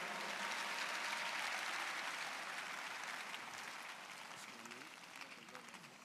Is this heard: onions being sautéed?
no